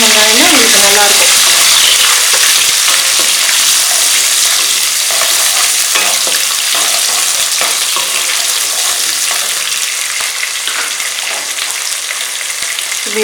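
Onions and spices for sambar fry and sizzle loudly in a pan, a dense continuous crackle with occasional stirring scrapes close up, with no voices.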